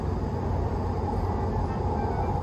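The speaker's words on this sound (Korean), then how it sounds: "기차 온다. 기차 지나간다." A train passes by near a riverside, a steady loud rumbling roar of rail wagons continuing throughout.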